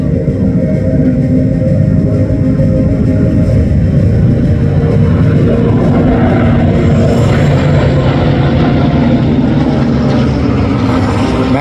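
A warbird formation of a Grumman Avenger, two P-40s, two Mustangs and a Spitfire roars overhead at an airshow, a loud continuous rumble of piston engines filling the whole span.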